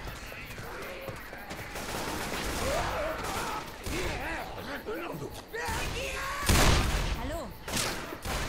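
Gunfire in the zombie shooter Left 4 Dead, with rapid shots and crashing bursts running throughout, loud and dense, heaviest near the end, while a man calls out over the noise.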